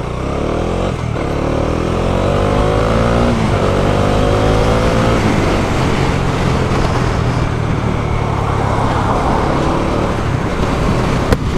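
A Bajaj Dominar 400 motorcycle ridden through busy traffic, its engine loud and close throughout, with several revving climbs in pitch early on before settling into a steady, continuous drone amid road noise.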